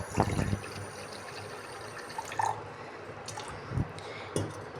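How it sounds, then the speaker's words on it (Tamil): Water poured into a pot on a low-flame stove makes soft splashes and drips in a few brief bursts, quiet and close, with faint background hiss in between. "அடுப்பை ஆன் பண்ணிட்டு லோ ஃப்ளேம் வச்சுட்டு நமக்கு தேவையான அளவு தண்ணி ஊற்றிக்கலாம்"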